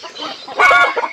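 A Bangkok chicken lets out a short, loud strained crowing call close by, surrounded by softer clucking from other fowl in a backyard flock.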